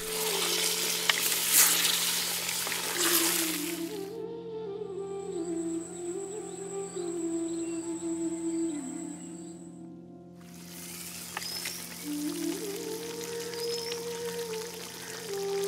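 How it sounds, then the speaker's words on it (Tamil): Mint chicken curry simmers in a pan with added water, a soft continuous sizzle and bubble that drops away briefly midway, leaving a thin high whine, before returning. "கோழிக்கறி நல்லா வேகணும், கொஞ்சம் தண்ணியை சேர்த்து கறியை நல்லா வேக வச்சிடலாம்"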